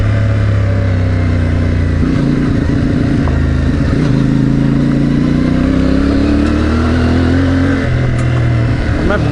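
A CFMOTO 450 MT motorcycle rides along with its mid-pitched engine droning loud and close, the revs slowly rising and falling, with wind rush over it.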